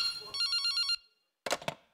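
A telephone rings once in a short burst of bright, rapid trilling bell tones, followed by a brief pause and a little handling noise.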